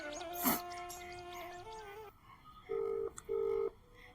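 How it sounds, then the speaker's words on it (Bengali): Phone keypad tones beep, first a rapid string of dialing tones, then two longer steady tones after a pause, with no talking. "বাড়িটার একটা ফোন করি"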